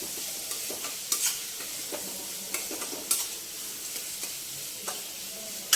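Onions with coriander and cumin powders fry in a pan, a soft continuous sizzle broken by several sharp scrapes and clinks of a spoon stirring against the pan.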